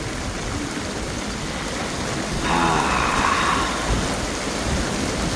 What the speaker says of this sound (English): Big raindrops.